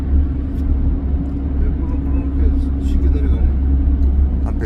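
A Hyundai Veracruz with 370,000 km on it drives on the road, its engine and tyres making a steady low rumble that fills the cabin from start to finish, with a voice talking over it.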